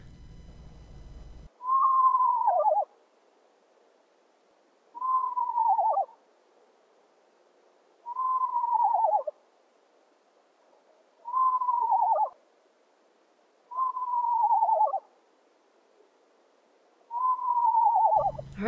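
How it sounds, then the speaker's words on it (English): An eastern screech owl calls six times in a row, each a clear descending whinny about one and a half seconds long, evenly spaced with quiet gaps, close and alone in still surroundings. "So that's an eastern screech owl."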